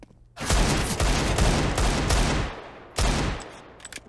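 Rapid pistol fire in a Counter-Strike match, sustained bursts of close, loud shots packed together, pausing briefly before another burst of firing.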